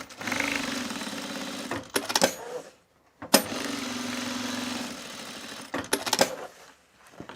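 A home sewing machine stitches down the center seam of a pieced fabric bag in two steady runs of rapid mechanical stitching, each ending with brief clunks and pauses, close and alone with no voices.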